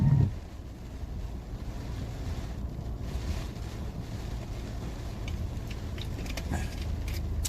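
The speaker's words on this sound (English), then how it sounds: "It's getting a little breezy here right now." Strong wind buffets the microphone outdoors at night during a storm chase in southwestern Pennsylvania, a continuous low rumbling roar with gusty swells throughout.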